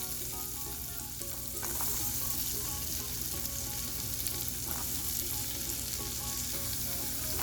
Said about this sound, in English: Fry them for 5 minutes.